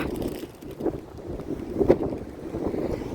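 Strong wind buffets the microphone in uneven gusts, a rough low roar rising and falling with a few louder bursts.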